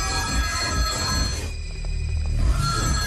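A telephone rings repeatedly in a Hindi-dubbed South Indian action film scene, a bright tonal ringing pattern over a low background rumble, pausing briefly midway before resuming.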